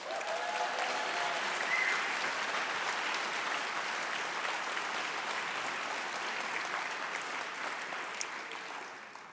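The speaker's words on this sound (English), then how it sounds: "Will you give them a round of applause, please?" An audience claps for a group of honored people at a report event: an even wash of applause that holds steady and fades slightly at the close.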